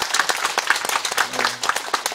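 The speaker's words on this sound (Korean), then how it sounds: "빨리 해달라고 박수 크게 한번 주시기" An audience at a rice-farming demonstration event in Icheon, South Korea, claps steadily and loudly in a dense, continuous burst of applause.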